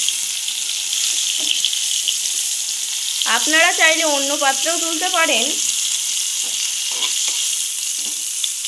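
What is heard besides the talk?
cauliflower frying in a pan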